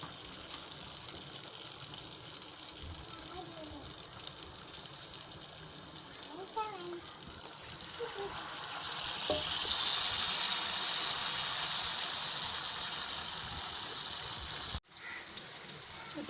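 Susiyam, a Tamil sweet of filling balls dipped in batter, frying in hot oil, giving a steady bubbling sizzle that swells louder partway through, with some faint handling noises.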